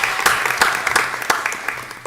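Applause at a township board of education meeting, a room full of people clapping together in a dense, sustained burst at close range.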